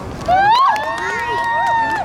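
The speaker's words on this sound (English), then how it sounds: "Let's give them a round of applause." An audience at a Toronto community event against gun violence applauds and cheers, with one voice whooping clearly above a steady wash of clapping.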